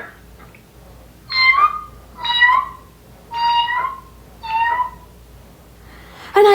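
A voice imitates a cat's meow with striking realism, giving four drawn-out, rising-and-falling meows at an even pace, close and fairly loud, followed by the start of a fifth at the end, with no talking.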